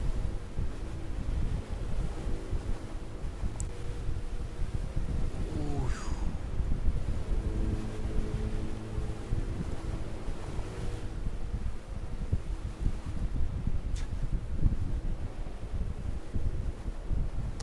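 Ocean waves and wind roll steadily in a ship simulator game at sea, a continuous broad rushing wash with a faint brief whistle, no speech.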